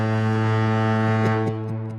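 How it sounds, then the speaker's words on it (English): A loud foghorn sound effect gives one deep, sustained blast, close and steady, fading slightly at the end. "Here's the foghorn for both of them."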